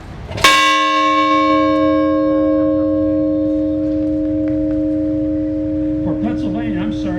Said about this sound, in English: Our Rotarians will now ring the bell 13 times.